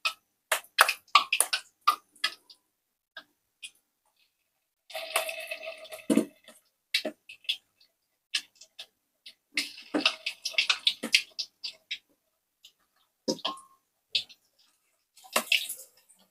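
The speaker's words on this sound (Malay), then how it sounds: "Kita goreng ya." Jeput batter fritters are dropped into hot oil in a pan, giving bursts of crackling, sputtering sizzle that start and stop in irregular clusters, fairly close and clear with no talking.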